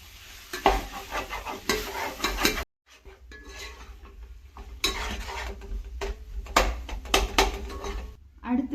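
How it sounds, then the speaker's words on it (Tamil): Chopped tomatoes being mixed into chicken biryani masala in a pan: steady spoon scraping and clinking against metal over a soft sizzle, close and fairly loud, with one short break partway through. "இதை நல்லா மிக்ஸ் பண்ணிக்கோங்க."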